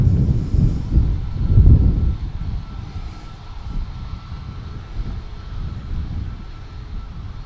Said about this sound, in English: next over is going to be this Ryanair down Tango here